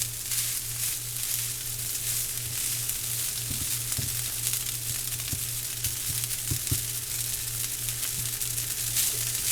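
Leftover rice stir-frying in a pan with green onion, a soft steady sizzle with a low constant hum underneath and scattered scraping and tapping as the rice is broken up.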